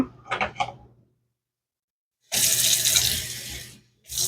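A kitchen tap runs into a sink to measure water for a tie dye mix, a loud, close rush of water that starts after a brief clatter, stops, then begins again.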